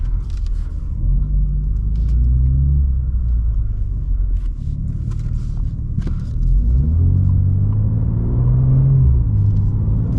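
A 2024 BMW M2 engine rumbles loudly and steadily up close in comfort mode, its deep growl rising and falling as the revs climb and drop, with no one talking.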